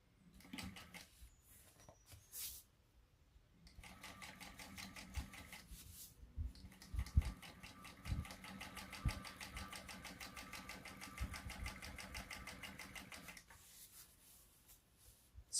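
A sewing machine basting across the raw top edge of a fabric shoulder bag at a narrow seam allowance, a steady mechanical whirr running in long bursts with brief pauses between.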